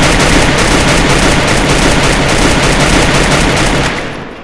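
Loud, rapid machine gun fire from the video game Free Fire rattles continuously for about four seconds, then fades out, with no talking over it.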